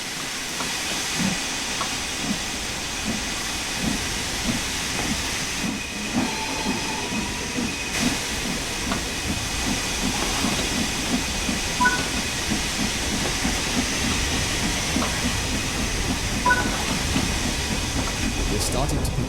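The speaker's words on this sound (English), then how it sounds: "open the cylinder cocks to remove any water. Slowly open the regulator to apply some power." Steam locomotive in Train Sim World 5 with its cylinder cocks open, giving a steady broad hiss that runs the whole time over a rhythmic low chuffing and rumble, with speech faintly present.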